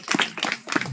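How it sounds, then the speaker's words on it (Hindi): Quick bursts of clapping during a Hindu wedding ceremony as the vows are recited, several uneven claps in close succession with a loose, lively rhythm, moderately loud and near. "सुहासिन ताली बजा।"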